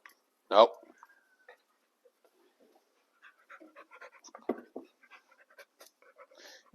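A dog pants in quick, soft breaths with a couple of louder bursts, alongside faint clicks and shuffling in a quiet room during a Honda ATV rear differential removal.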